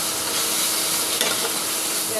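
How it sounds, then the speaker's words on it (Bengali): Cumin and chili powder fry in a pan for a bhola fish curry, giving a loud, dense, continuous sizzle close up with one brief stirring scrape near the middle. "আর দিয়ে দেবো 1 চামচের মতো লঙ্কা গুঁড়ো দিয়ে এগুলোকে ভালো করে ভেজে নেব।"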